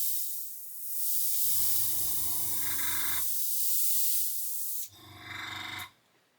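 Airbrush spraying paint for scale modelling, a steady compressed-air hiss that cuts off near 3.3 seconds, then a second shorter burst at lower pressure toward the end, with no talking.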